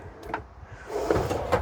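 A good-sized drawer in a 2024 Roadtrek Chase 50 Class B camper van slides, with a soft rolling glide followed by a couple of light clicks and knocks as it meets its stop.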